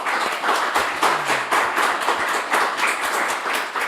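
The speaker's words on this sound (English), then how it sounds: "a quick round of applause for our panel members." An audience at a fighting tournament event claps for the panel members, brisk close claps blending into a short burst of applause that lasts a few seconds.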